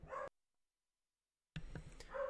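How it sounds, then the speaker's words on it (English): Dogs barking nearby in a home, a few quick sharp barks at the start, a short silence, then another burst of barking and yelps. "with my dogs barking, I think it's that time"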